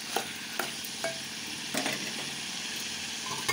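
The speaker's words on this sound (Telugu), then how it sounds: "ఇలా మూత పెట్టి సిమ్ మీద మగ్గించుకోవాలి." Bitter gourd (boda kakarakaya) curry with salt and sugar simmers covered on low heat, giving a steady soft sizzling hiss broken by a few faint pops and clicks.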